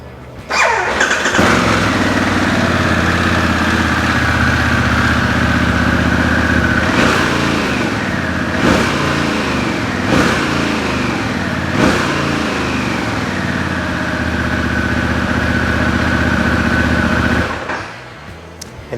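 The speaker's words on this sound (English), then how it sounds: "let's start up the engine and listen to it." A Harley-Davidson Pan America Special motorcycle engine cranks to life, then settles into a loud, steady, rumbling idle with a few brief blips of revving before shutting off.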